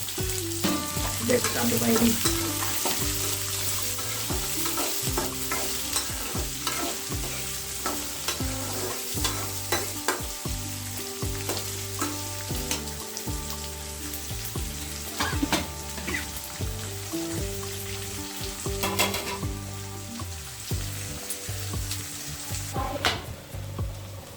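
Chopped onions with a little salt sizzle steadily in a hot pan while a utensil stirs and scrapes the metal in repeated strokes, close and fairly loud.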